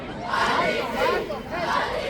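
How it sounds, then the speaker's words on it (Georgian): Football fans of FC Rustavi Olymp roar and chant together in the stands during a 2012 match against FC Basa, a loud, surging crowd noise that swells and dips. "ოლიმპის გულშემატკივრები არ ჩერდებიან. ხურვალებს მოუწოდებენ თავის გუნდს უკეთეს თამაშისკენ და ამხნევებენ."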